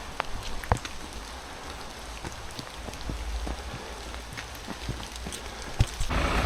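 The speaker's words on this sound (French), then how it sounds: "Je suis content pour la pluie." Rain falling steadily outdoors, a dense hiss with scattered drops and a few sharper taps, moderately loud.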